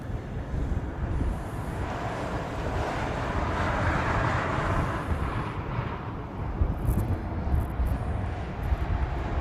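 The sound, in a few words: Southwest airliner taking off from the reef runway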